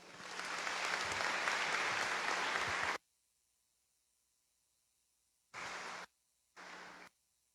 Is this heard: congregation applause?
yes